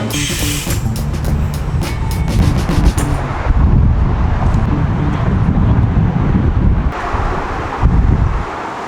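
Loud, constant wind buffets the microphone near the Golden Gate Bridge in San Francisco on a foggy coastal evening, a heavy low roar that continues throughout without talk.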